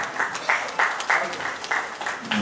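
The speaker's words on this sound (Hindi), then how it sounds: "जोरदार तालियों से हम स्वागत करेंगे सभापति मंजू प्रकाश भेड़ाओ जी" An audience at an award function applauds to welcome an honoured guest. The clapping is moderately loud and comes in regular, rhythmic bursts of several hands together.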